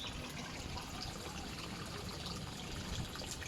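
Water flowing steadily from a pipe into a field channel, a continuous close trickling and splashing wash with no pauses.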